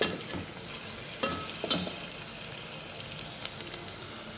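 Potato for tomato rice fries in a pan with a soft, continuous sizzle, broken by occasional light clinks of stirring, quiet and close with no talk.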